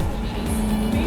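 Car driving in the video game Cyberpunk 2077, a loud steady engine hum with a slight rising tone, heard alone without speech.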